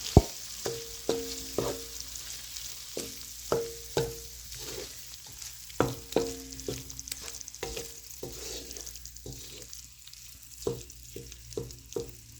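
Mashed potato fries in a pan as a spoon stirs it, with repeated ringing metallic knocks and scrapes against the pan over a soft, continuous sizzle. No one speaks.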